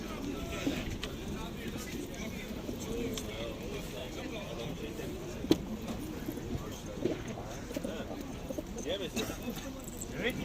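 Birds at the Edirnekapı bird market in Istanbul, with pigeon-like cooing and chatter scattered through a steady murmur of market crowd talk and background bustle.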